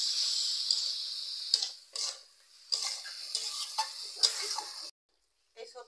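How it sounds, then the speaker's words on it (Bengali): Vegetables and water tipped into a pan of frying spices, bursts of bright hissing sizzle broken by stirring clatters and short gaps, close and moderately loud, ending in a brief silence before another spatter. "এবার আমি সবজিগুলো দিয়ে দিচ্ছি। এবার জল দিয়ে দিচ্ছি।"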